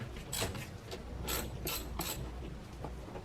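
A wrench ratchets on a Volkswagen car battery terminal nut, giving several quick bursts of sharp clicking with short pauses between them. The sound is close and fairly quiet, with no talk.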